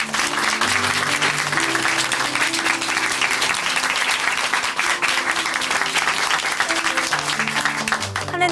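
An audience in a church bursts into sustained applause, dense clapping filling the room steadily from start to finish.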